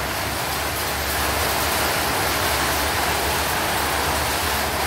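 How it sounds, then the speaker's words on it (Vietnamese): Heavy rain pours steadily, a dense hiss of broadband noise with no pauses, close and loud, heard during a look at Japanese secondhand tools. "Ôi trời mưa to quá."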